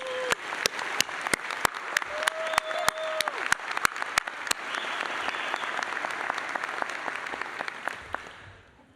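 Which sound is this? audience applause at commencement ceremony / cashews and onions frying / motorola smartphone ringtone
audience applause at commencement ceremony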